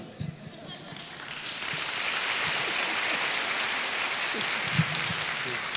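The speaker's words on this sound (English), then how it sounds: "I'd like you to look at the audience and let them clap for you" Audience at a mentorship program launch event claps and cheers as a steady, fairly distant wash of applause builds after a quieter start, with scattered voices mixed in.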